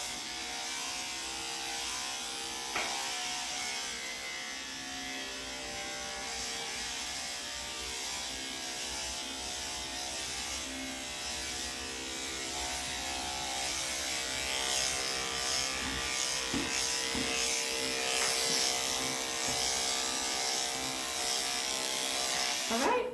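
Electric clippers trim a Maltipoo dog's coat during grooming, giving a steady close buzz that runs without a break and shifts slightly as the blade moves through the fur.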